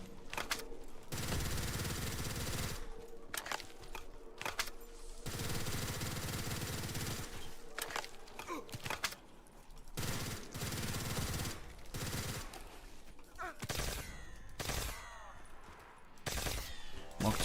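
Gunfire from a gun in a Rust V9 zombies custom map video game: loud, dense automatic bursts that cut in and out in rapid succession with brief pauses between them.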